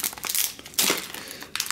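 A plastic bag of supermarket long-grain white rice is pulled open, giving close crinkling and crumpling in several rustling bursts with brief pauses between.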